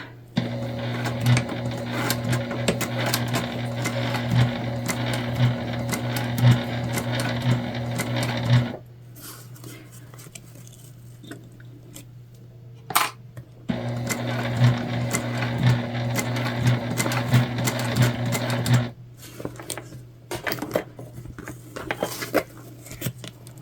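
Sewing machine top stitching a tote bag, two runs of fast rhythmic needle clatter with a steady motor hum, separated by a quiet pause with small handling clicks and followed by another pause.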